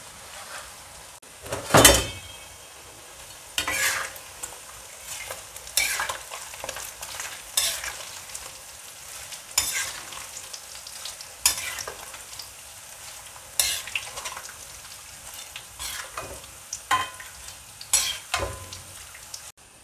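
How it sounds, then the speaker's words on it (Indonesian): Food frying slowly in a pan while being stirred, a steady low sizzle broken by repeated clattering scrapes and knocks of a utensil at irregular intervals. "Ini gorengnya santai dan pelan-pelan."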